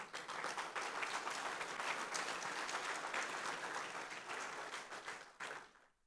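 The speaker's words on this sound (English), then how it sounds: "Give him a round of applause." An audience at a pension seminar bursts into dense, sustained applause that fills the room and then tapers off at the end.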